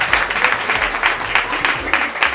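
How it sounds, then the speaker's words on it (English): Audience clapping at a book release party, a brisk round of applause with rhythmic pulses of hand claps, fairly close and lively over a couple of seconds. "just give her a round of applause"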